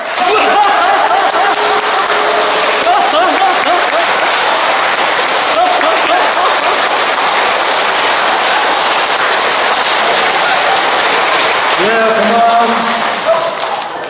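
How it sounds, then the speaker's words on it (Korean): A church congregation at a Lenten lecture claps and laughs together for about ten seconds, a loud, continuous wall of hands with laughter and cheering voices mixed in, fading slightly at the end. "10초간 박수 치면서 신나게 웃으면서 치겠습니다."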